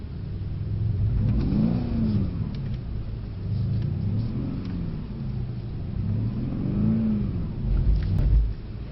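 A Mercedes C63 S AMG engine drones loudly while drifting on a track, rising and falling in several repeated rev surges over a constant rumble, with no one speaking.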